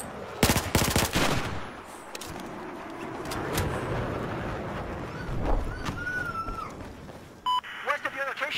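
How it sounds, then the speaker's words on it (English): Machine gun fire in Battlefield 4: dense bursts of rapid shots open loud and close, then fade into a busier battlefield din with scattered shots and people talking over it. "there's a hostile machine gun"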